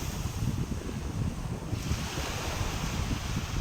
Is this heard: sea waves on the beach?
yes